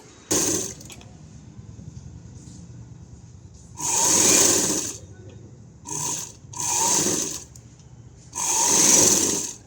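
Sewing machine stitching the lining of a blouse, running in four separate bursts of rapid whirring stitches of a few seconds each, separated by quiet pauses with faint background hiss.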